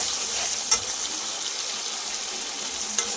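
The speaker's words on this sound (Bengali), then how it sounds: "তেলের উপরে মশলাগুলো দেওয়ার পরে কষিয়ে নেব সুন্দর করে।" Spices frying in hot oil for biryani, a steady bright hiss and crackle throughout with two sharp little pops near the start and end.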